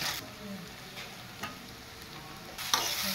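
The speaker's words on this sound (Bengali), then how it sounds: "হ্যাঁ, চালটা একটু ভেজে নিবি।" Rice frying in ghee in a pan while being stirred for paneer pulao, a steady soft sizzle with scraping stir strokes, a brighter burst of sizzle near the end.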